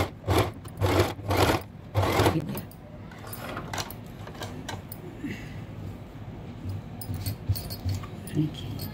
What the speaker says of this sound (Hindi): देखिए अब यहाँ से किनारे एकदम सिलाई कर लेंगे ताकि शेप इसका अच्छे से आ जाए।